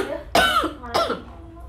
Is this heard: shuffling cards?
no